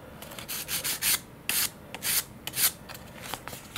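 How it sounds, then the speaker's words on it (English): The corners of an F5J glider's aileron servo installation are worked with 220 grit sandpaper, giving close, rhythmic rasping strokes in short bursts of about half a second, repeated back and forth with brief pauses and no talk. "Got some 220 grit sandpaper. It's gonna kind of flat the corners off like a 45s."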